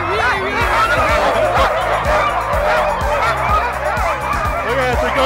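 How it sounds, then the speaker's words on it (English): A team of excited sled dogs in Lapland, Sweden barks and yips loudly and continuously nearby, a dense overlapping chorus of yelps and howls that never pauses. "The dogs are super excited. They seem really ready to go."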